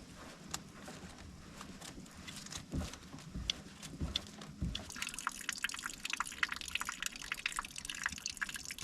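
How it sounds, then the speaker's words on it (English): Water drips from a draining Baldwin secondary fuel filter on a Kubota V3300 engine fitted to a Cat 257B skid steer: scattered close drops, with a denser, louder patter of liquid in the second half. "Drain water regularly."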